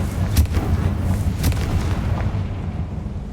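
Confringo blasting spell explosion in the video game Hogwarts Legacy, a deep booming blast with a couple of sharp cracks near the start, rumbling low and steady before tapering off.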